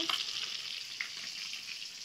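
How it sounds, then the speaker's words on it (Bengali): Soft, even sizzling of fish frying in oil, a continuous bright hiss with a couple of small pops, heard close and alone. "মাছ ভাজা হচ্ছে এখানে"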